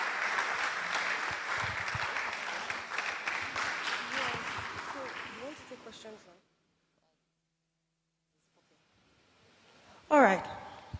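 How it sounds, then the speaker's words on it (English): Audience applause at a Catholic medical and dental federation's national convention, a dense patter of many hands for about six seconds with voices mixed in, then quiet and a brief loud burst near the end. "Please continue the clap"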